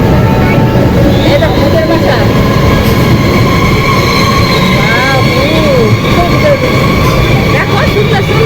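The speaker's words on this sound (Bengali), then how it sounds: "এখন আমরা ট্রেনে চলতেছি।" A moving train heard from inside a passenger car, a loud constant rumble of wheels on rails with faint metallic squeals, continuous and close, while people talk over it.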